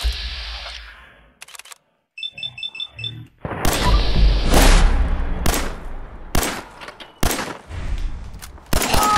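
Fallout 4 combat: after a few soft beeps, a rapid series of loud, close gunshots cracks out in irregular bursts, each followed by a short echoing tail.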